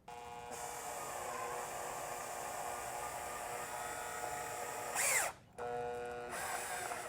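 A power drill bores holes through a metal template with a steady, close, high whine. It cuts out briefly near the end, then revs back up for a final stretch. No voices are heard.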